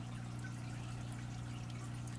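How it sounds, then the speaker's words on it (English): Small waterfall in a paludarium, a constant faint trickle and pour of water over a steady low pump-like hum, continuous and unbroken. "Starting over here, I have my waterfall, and I'll look through it at the top."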